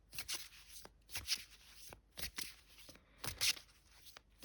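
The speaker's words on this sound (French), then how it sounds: "on va prendre quelques petites cartes" Christmas vintage oracle cards being shuffled and drawn by hand: repeated quick papery riffles and flicks in irregular bursts, close and fairly quiet, with no talk.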